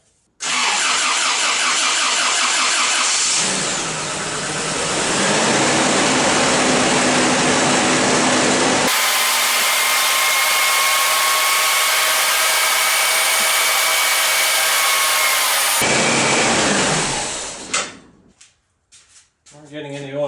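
A rebuilt Toyota 22RE four-cylinder engine cranks and catches, then runs with a loud, steady, broadband roar that shifts in pitch midway before cutting off, heard up close.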